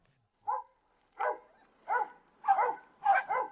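A dog barks at a newly arrived dog in the house: six short, sharp barks at an uneven pace, the last few coming in quick pairs, clear and fairly close against near silence.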